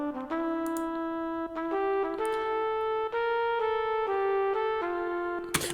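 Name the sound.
synth horns on Korg M1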